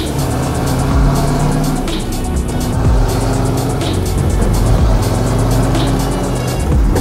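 A car engine runs loud and close, a steady rumble with rising and falling revs across the whole stretch and no talk over it.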